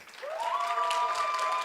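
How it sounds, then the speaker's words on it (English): Crowd at a women-in-tech hackathon finals claps for an airline sponsor, a short burst of applause rising quickly and holding steady, with a rising tonal sweep, like a music sting, playing over it. "a round of applause for Air Baltic."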